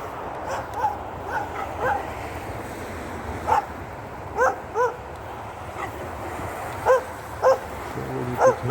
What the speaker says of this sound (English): So now a dog is coming,